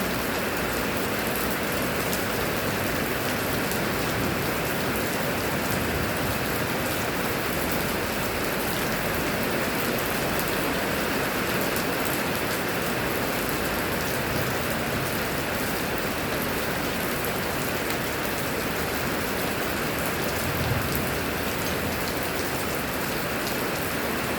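Steady, even rain pours down without pause, a dense continuous hiss filling the whole scene with no voices.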